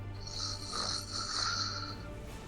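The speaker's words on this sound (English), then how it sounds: "she snores kind of loud" Loud, rasping snoring comes through a closed door, one long breath drawn out for about two seconds over a low steady hum.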